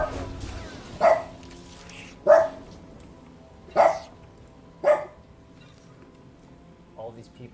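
A dog barks at someone at the door, four sharp single barks spaced over several seconds at moderate distance, heard over background game sounds from an online role-playing game session.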